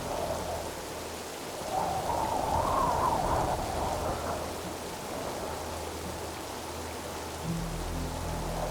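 Heavy storm rain pours steadily as the storm makes landfall over a homestead, a dense continuous wash with a stronger surge in the middle and a low rumble beneath.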